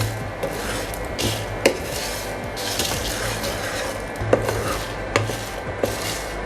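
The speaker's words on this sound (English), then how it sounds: "Roast the spices until it is nice and fragrant." Whole spices dry-roasting in a pan for Awadhi mutton korma, a steady dry rattling scrape punctuated by occasional sharp clicks of the spoon against the pan, close and alone.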